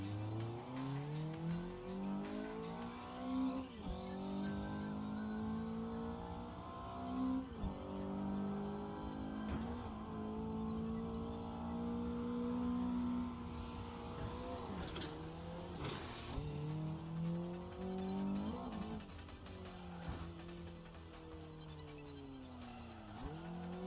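Race car in the Assetto Corsa video game, engine revving up and down through repeated gear changes with rising and falling pitch sweeps and occasional tyre squeal, loud and continuous with no talk.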